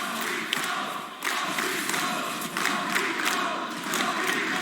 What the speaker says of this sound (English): The crowd is pumped.